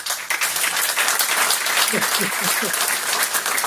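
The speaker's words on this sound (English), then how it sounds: "Just a little round of applause" A room of people at a township council meeting claps steadily in welcome for a new planner, the applause sustained and fairly close, with a few voices briefly audible partway through.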